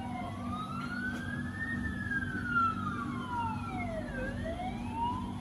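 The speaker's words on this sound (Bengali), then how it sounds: "হোস্টেলের ভিতরে অ্যাম্বুলেন্সের শব্দ" An ambulance siren wails near a hostel, its tone sweeping slowly up and down in long cycles, loud and continuous over a low background hum.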